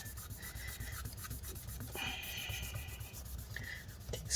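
Adhesive being rubbed off the inside of a 13-inch MacBook Pro A1708 from mid 2017, a quiet, close, continuous scrubbing rasp in quick repeated strokes.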